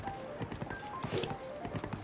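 Horse hooves clip-clop in a steady quick gallop while riding through Breath of the Wild, soft and even with faint background ambience.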